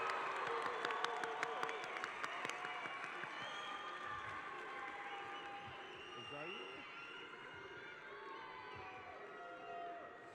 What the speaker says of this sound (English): How about another big round of applause for all of our recipients,